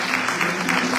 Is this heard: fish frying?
no